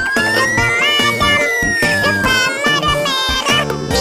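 A toy fire truck sounds its siren, a loud electronic wail rising and falling continuously up close over a busy synthetic tune.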